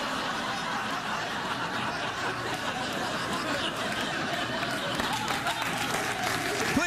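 A late-night TV studio audience applauding and laughing, a dense continuous wash of clapping mixed with chuckles that stays steady throughout, with a voice talking over it.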